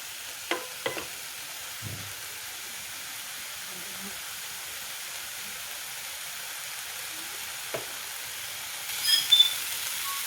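Leafy greens (shak) frying in a pan with oil and garlic, a steady low sizzle beneath a few scattered knocks and scrapes of stirring, fairly quiet throughout, with a brief clatter near the end.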